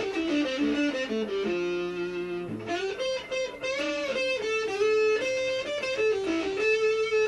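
A distorted electric guitar from a song's solo glides between notes with sustained sliding pitch bends, played continuously and fairly loud without any voices.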